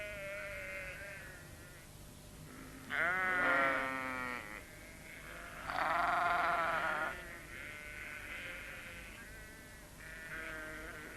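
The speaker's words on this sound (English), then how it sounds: "The sheep were glad to see them." Several sheep bleat in distinct bursts, some long and quavering, with quieter calls between them, heard moderately close in a snowy farm setting.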